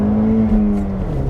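A 2020 Ford Mustang engine revving while driving, a loud, close, steady droning hum whose pitch sags slightly toward the end.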